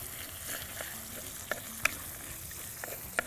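Onions sauté in a pan with chillies, dal, asafoetida and curry leaves, giving a faint, steady sizzle with occasional small clicks and scrapes from stirring.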